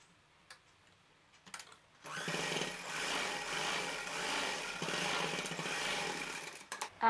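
Sewing machine double-stitching along the edge of fabric for a child's shorts, a close, steady rattling whir lasting about five seconds after a few faint clicks.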